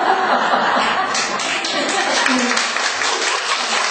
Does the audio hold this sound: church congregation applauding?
yes